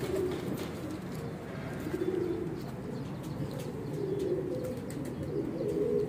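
Weshi pigeons coo in low, rolling, repeated calls close by, with soft chirps and a brief flutter of wings mixed in, and no one talking.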